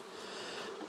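Honey bees buzz around an open hive in a continuous soft, even drone lasting under a second, with no talking.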